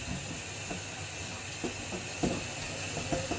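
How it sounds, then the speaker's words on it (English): Tap water rinses particles out of a removable juicer part in a sink, a steady hissing stream running throughout with a few faint clinks of the part being handled. "And I'll rinse it out to get all the particles out of this part."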